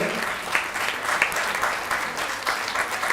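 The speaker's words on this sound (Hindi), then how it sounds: "एक बार जोरदार तालियों से मैं चाहूँगा का स्वागत करें।" Loud audience applause at a Hindi stage play, as a crowd claps vigorously for an actor, with dense clapping and a few sharper bursts.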